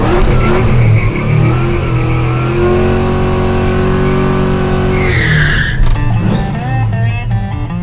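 A car spins its rear tires in a burnout at a Roadkill shootout event, with a loud, sustained tire squeal over a roaring engine that holds steady, then breaks into rougher screeching and revving near the end, close and with no talk.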